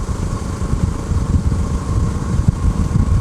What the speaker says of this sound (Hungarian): nyilván ott az egyhengeresekre jellemzően kicsit jobban dorombol